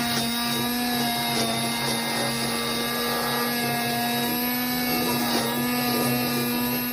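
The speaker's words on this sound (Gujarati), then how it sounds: "હવે આપણે આને મિક્સરમાં ક્રશ કરી દઈશું" A kitchen mixer crushes watermelon chunks with lemon juice for juice, a loud steady motor whine with a strong hum and layered overtones running without pause throughout.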